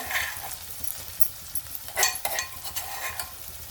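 Crushed garlic being sautéed with softened onion and tomato in a pan over low heat, a soft continuous sizzle with a few brief scrapes and clinks of stirring, close and fairly quiet, no talking.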